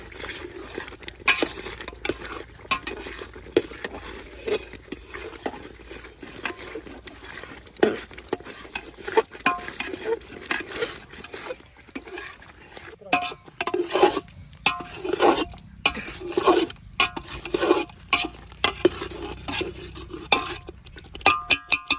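Palak paneer being stirred in a pot, an irregular run of scraping and clinking spoon strokes against the metal with a soft simmer beneath, close and fairly loud, with no talking.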